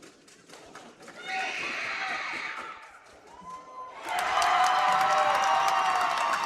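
Eagles basketball crowd at a state championship game cheers after a made free throw: murmur swells, dips briefly, then erupts into a loud, sustained roar of cheering and applause under a commentator's voice.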